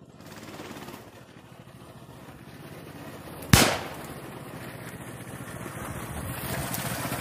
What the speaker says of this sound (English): So as you saw with two pistols, one went off, but I missed